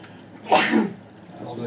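One sharp sneeze from a person indoors, quick and fairly close, with a quiet room behind it.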